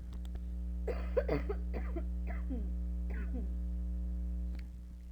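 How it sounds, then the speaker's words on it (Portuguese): Several coughs and throat-clearing sounds from a nearby person, over a constant low electrical hum. "ainda tô tossindo pra caramba"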